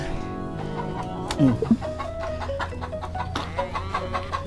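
A backyard flock of chickens clucking, with several close clucks and squawks among scattered softer calls and some background rustling.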